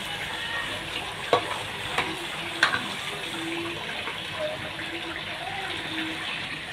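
Beef being stir-fried in oil in a pan, with a steady close sizzle and a few sharp spoon clinks against the pan.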